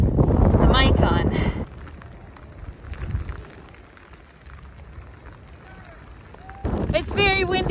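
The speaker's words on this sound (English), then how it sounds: "It's very windy." Strong coastal wind on the Lofoten coast in Norway on a rainy day roars and buffets an open microphone, with people talking at the start and end.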